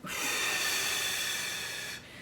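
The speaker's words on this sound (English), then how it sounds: "So you're breathing in and like this." A single long, audible in-breath drawn through the nose during a stretching exercise, steady and close, ending abruptly after about two seconds.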